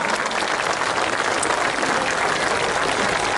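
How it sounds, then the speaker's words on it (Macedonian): Steady, dense applause from a concert audience at a classical performance by Simon Trpčeski and friends in Delčevo, a full, even roar of clapping that fills the whole stretch without pause. "еден голем аплауз за тоа"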